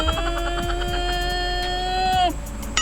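Electric mini R15 kids bike motor whining steadily for a couple of seconds before its pitch drops as it winds down, close by with a faint background hum.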